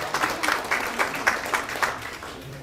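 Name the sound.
audience applause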